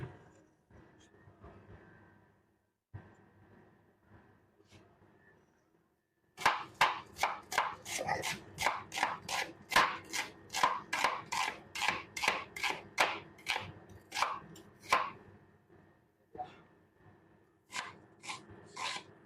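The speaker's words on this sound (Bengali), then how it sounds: "পেঁয়াজ বানাইতেছি।" Onions being chopped on a board with a knife, starting with a few sparse cuts, then a fast, steady run of sharp close knocks that pauses and resumes in short bursts.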